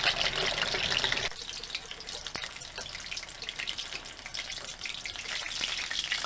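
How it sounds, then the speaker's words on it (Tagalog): Chicken pieces fry in hot oil for Max's-style fried chicken, a dense, loud, steady sizzle and crackle close by that eases slightly after the first moment and carries on with no talk. "I-fry na natin yung chicken hanggang maging golden brown in color."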